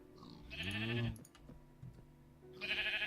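A sheep bleats in the video game TerraFirmaCraft, one loud, wavering bleat up close, followed by soft clicks and then a burst of hissy game noise.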